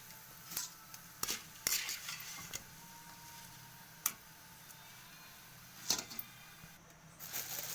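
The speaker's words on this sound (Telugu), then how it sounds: "దీంట్లోనే ఇప్పుడు పల్లీలు వేయించుకుందాం." Peanuts frying in a kadai, heard as irregular soft sizzling with sharp clinks and scrapes of stirring, close and fairly quiet, with no one talking.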